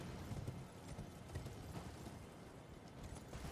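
Horse hooves clip-clop in a steady quick gallop in the action game Elden Ring, a dense, muffled rhythm over low rumbling ambience, fairly faint and continuous.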